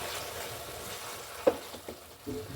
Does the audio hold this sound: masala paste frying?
yes